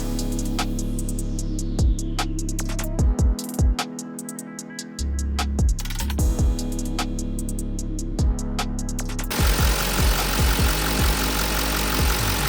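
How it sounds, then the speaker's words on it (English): Porsche Panamera diesel with big turbos, freshly rebuilt and running in a workshop, a steady low idling thrum with clattering knocks and mechanical ticks throughout, changing to a rougher, broader engine noise near the end. "So as you've just heard, the Panamera is now built back up, running, pretty much ready to go on the dyno."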